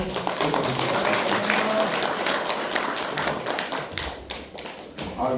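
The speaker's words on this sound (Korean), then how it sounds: "한번 뜨거운 박수로" Applause at the annual general meeting of a park golf association, a crowd clapping steadily for several seconds and thinning toward the end, with some thumps and voices in the room.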